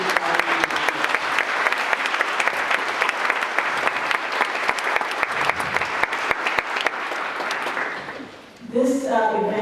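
An MLK event audience gives a sustained round of applause for someone, full crowd clapping that fades near the end before a voice begins speaking.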